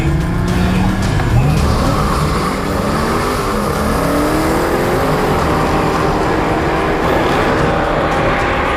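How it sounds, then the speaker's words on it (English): Loud, continuous engine roar with tires squealing and revving, a Dodge Challenger Hellcat spinning its wheels in a sustained burnout throughout. "we're gonna do burnouts again"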